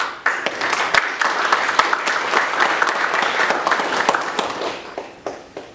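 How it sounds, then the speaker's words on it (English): An audience gives a round of applause at a hip hop and spoken word event, dense steady clapping with some sharper individual claps standing out, holding for several seconds before thinning out at the end. "we can give him a big round of applause"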